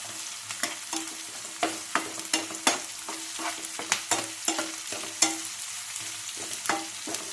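Chopped onions and curry leaves frying in a pan for karela bhaji, a soft sizzle broken by repeated scraping stirs in an irregular rhythm, close and fairly quiet, no voices.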